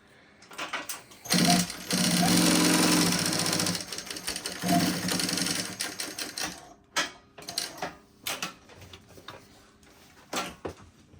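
Seiko LSC-8 cylinder arm walking foot needle feed sewing machine running, a loud, fast mechanical whir in sustained stretches, then shorter stop-start bursts and isolated clunks, close and without talk.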